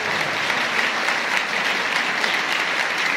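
A church congregation applauds loudly at a Hindi-language Advent Sunday service, steady dense clapping filling the whole stretch at an even level without voices.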